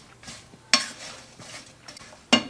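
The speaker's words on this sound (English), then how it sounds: "stir it up, bring it up to a simmer and let it cook for about 10 minutes" A spoon stirs cranberry sauce in a pot, with soft scraping swirls broken by two sharp metallic clanks against the pot's side, close and clear with no talking.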